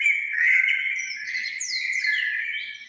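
Outdoor songbirds trill and whistle without a break, bright overlapping chirps and rising notes close by, steady in loudness, with no one speaking.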